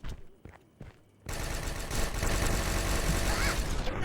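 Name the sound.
double guns firing in video game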